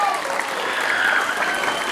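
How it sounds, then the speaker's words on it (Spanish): A crowd of schoolchildren and family applaud warmly at a school farewell ceremony for circus students, steady dense clapping that fills the room without pause. "Le damos el último aplauso con todo nuestro cariño"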